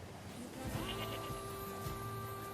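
Sheep bleating in the video game NieR Replicant, a few wavering bleats over steady game ambience and background music, with no talking.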